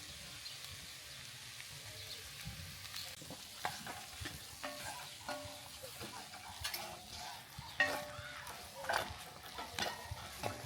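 Curry sizzling and frying in a pot at a campsite, with a spoon stirring and scraping at intervals, close but quiet, with a steady crackle underneath and occasional clinks.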